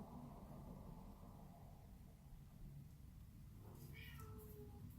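A house cat meows in a room during a spring flower magnet craft session, a few short, fairly faint calls near the end over a steady background hum.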